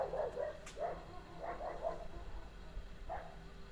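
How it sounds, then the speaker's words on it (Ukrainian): Several muffled dog barks, some distant, in short bursts over steady background noise, with no talking. "Там собаки хай гавкають."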